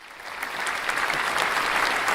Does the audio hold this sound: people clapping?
yes